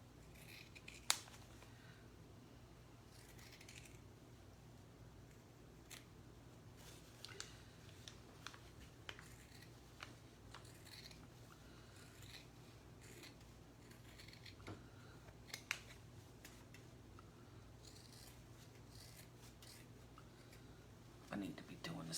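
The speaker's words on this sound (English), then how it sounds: "Then we're going to go and cut out our pattern. Cut the fabric." Scissors cut fabric for a primitive doll dress in faint, scattered snips over low room hum, while a person speaks quietly in the background.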